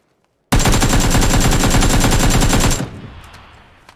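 An automatic rifle in a video game fires one loud, continuous burst lasting a little over two seconds, then the sound cuts off and rings out briefly.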